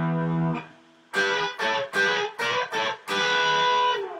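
Electric guitar with distortion and chorus-type effects plays a lick transposed to F, a long note followed by several punchy, evenly spaced stabs and a final sustained chord, loud and alone.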